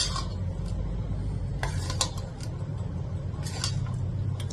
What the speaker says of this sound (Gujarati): બરાબર મિક્સ કરીશું।